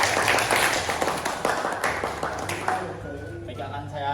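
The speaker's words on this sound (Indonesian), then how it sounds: "Oke, tepuk tangan buat Mas Fahri." Students in a vocational school classroom clap for a classmate after a presentation on fiber optics, giving brisk, close clapping that tapers off over a few seconds while a low hum runs underneath and voices mingle in.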